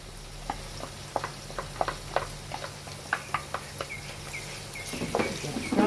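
Ginger and garlic fry in a pan of oil for Mauritian vegetable achar, giving a steady soft sizzle dotted with sharp crackling pops at an irregular rhythm, close and moderately quiet.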